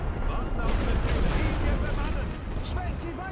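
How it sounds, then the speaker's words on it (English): Artillery barrage in the WWI strategy game The Great War: Western Front, a dense, continuous roar of booms and rumbling impacts with scattered higher crackles, loud throughout and easing slightly toward the end. "They are really working on us with artillery here."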